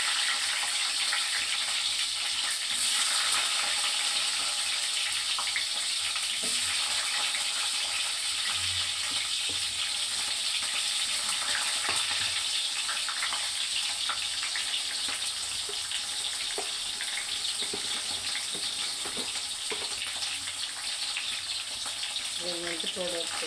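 Onions sizzle in a hot pan with a steady, dense frying hiss that runs throughout at close range, with faint clinks and scraping now and then.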